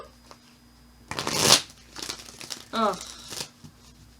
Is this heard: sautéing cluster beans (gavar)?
no